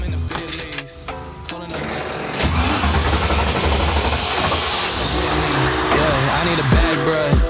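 A rally car at the Breslau Rallye starts up and runs loudly and close by, with a dense engine roar that holds steady before revving and rising in pitch near the end.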